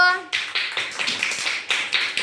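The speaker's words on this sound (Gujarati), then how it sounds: "બધા તાળી પડી દો" A group of young children at an anganwadi preschool clap their hands in a loose, uneven burst of close claps lasting about two seconds, following a brief adult voice at the start.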